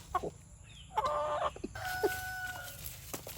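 Chickens cluck and squawk in short bursts, one drawn-out call rising partway through, with a quiet background hum.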